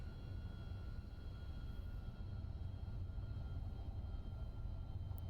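Simulated MD-11 jet engines at takeoff power in a flight simulator game, a steady dense roar with faint whining tones laid over it, constant and unbroken with no voices.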